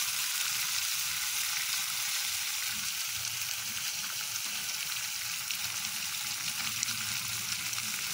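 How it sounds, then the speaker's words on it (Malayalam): Ingredients for a ration-rice biryani are sautéed in a pan over high flame, giving a dense, unbroken hiss of frying oil that stays even and close throughout. "ഹൈ ഫ്ലെയിമിൽ തന്നെ ഇട്ട് വഴറ്റാം."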